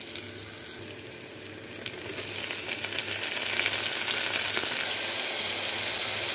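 Tomato tipped into frying masala for prawn biryani, the steady hiss of the pan swelling into a louder, dense sizzle that holds close and constant, with no voices over it.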